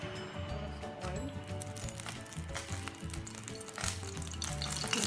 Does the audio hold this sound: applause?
no